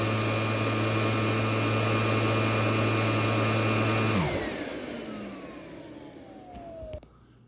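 A Proteam 1500 XP vacuum with both motors on roars loudly and steadily, then switches off partway through and winds down with a falling whine.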